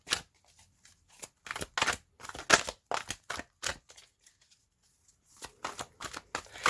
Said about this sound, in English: So I'm just gonna give it a little pre-shuffle here.